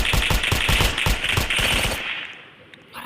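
Rapid automatic gunfire from a gun in the Roblox video game, a fast burst of evenly spaced loud shots lasting about two seconds before fading into quieter background noise.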